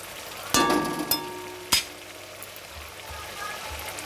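Spice paste fries in oil in a pan while being stirred, a steady sizzle punctuated by a few sharp metallic clanks of the spatula early on, then a softer simmering crackle.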